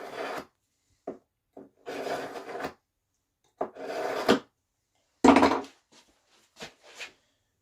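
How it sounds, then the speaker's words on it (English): A knife blade is sharpened before skinning a muskrat, giving several short rasping strokes followed by longer scraping passes, close and fairly loud, with quiet pauses between them. "Actually, I'm going to sharpen this again. I'll put a better edge on this."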